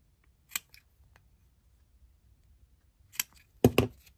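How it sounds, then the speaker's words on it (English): Scissors snip through paper faux ticket strips for a junk journal, giving three crisp, close cuts: one single snip, a pause, then two quick cuts near the end in an otherwise quiet room. "that's why they invented scissors"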